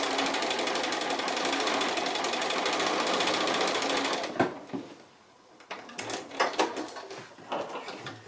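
A sewing machine hums continuously and close by while doing free motion stitching on fabric with stabilizer, then stops. Clicks and handling noises from the fabric and machine follow.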